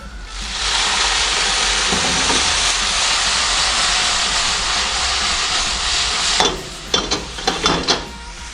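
Water added to a hot pan with honey and a little balsamic vinegar hisses and sizzles loudly and steadily as it boils off, ending in several sharp crackling spits.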